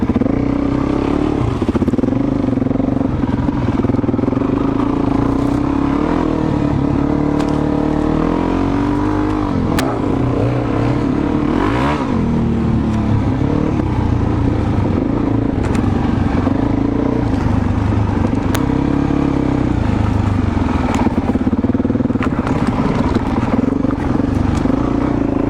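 A Suzuki DRZ400 dirt bike rides along a trail, its single-cylinder engine droning loud and close throughout, with rising and falling revs and rattling clatter over rough ground.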